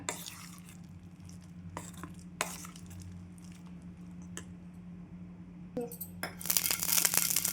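Wheat flour batter with Eno stirred in a bowl, producing faint scattered taps and scrapes of the spoon against the vessel over a low hum, growing a bit busier near the end.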